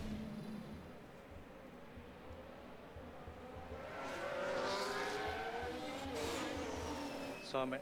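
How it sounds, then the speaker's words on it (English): An F1 race car from F1 Manager 2024 spins out at turn 3, its tyres squealing and engine note sweeping over a steady engine drone, with talk running beneath. "Oh, Joe ended up spinning turn 3."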